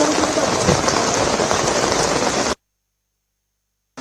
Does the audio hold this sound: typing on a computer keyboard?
no